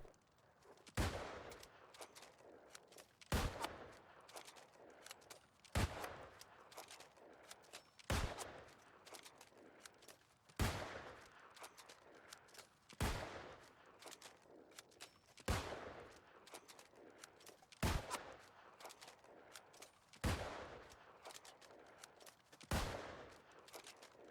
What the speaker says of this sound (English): For our next test, we're going to use the accuracy perk on the musket.